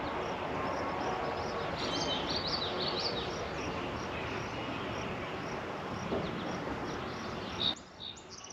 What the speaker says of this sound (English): Hopefully the birds stop chirping here.